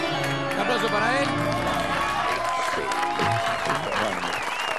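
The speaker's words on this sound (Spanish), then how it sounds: "Un aplauso para él." A studio audience at an Argentine political talk show claps and cheers in a busy, loud burst, with voices talking and shouting over the applause.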